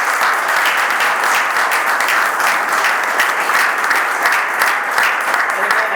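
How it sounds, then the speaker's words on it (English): A community audience at an active shooter preparedness program breaks into sustained applause for first responders, even and loud throughout, with a faint murmur of voices mixed in. "We owe them a round of applause."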